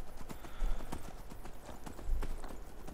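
Horse hooves in the game Skyrim, quick rhythmic clip-clop beats at a galloping pace, fairly faint and close, with a brief whinny-like tone in the mix.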